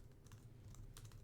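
Fingers tap a new computer keyboard in a quiet room, producing soft, rapid clusters of key clicks at an uneven pace, faint and close.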